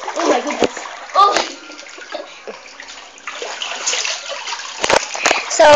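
Water splashing and sloshing in a small backyard mini pool, with bursts of splatter coming in uneven waves, close by, while people talk and exclaim over it.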